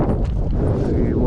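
Gusty wind rumbling across an outdoor microphone at an RC plane flying field, a continuous low buffeting with faint background sounds and no clear talk.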